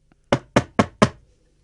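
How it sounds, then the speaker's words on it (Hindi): Someone knocks on a hut door in an animated children's fairy tale: four crisp, evenly spaced wooden knocks, close and loud, each ringing off briefly against a quiet background. "उसने झोंपड़ी का दरवाजा खटखटाया।"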